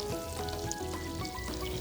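Salmon fries in a pan with a steady close sizzle and spitting crackle, continuous across the whole short stretch with no talk.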